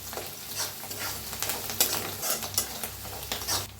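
Green chili and garlic paste fries and sizzles in a pan, with steady crackling broken by repeated scraping stirs of a spoon, close and fairly loud, with no talking.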